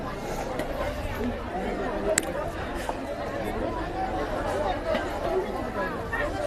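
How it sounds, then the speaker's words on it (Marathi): Dense crowd chatter fills the weekly village market at Mithbav in Konkan, a steady babble of many overlapping voices close around, with occasional sharp clinks and shouts rising above the hubbub. "तर आता हळूहळू आणखीन गर्दी वाढते."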